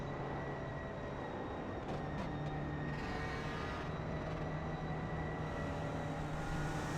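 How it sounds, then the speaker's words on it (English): Car engine trouble in a racing video game: a steady, fairly quiet mechanical drone with an uneven, sputtering hum and a few brief ticks, with no talk. "Sounds like Niall might be having a spot of car trouble"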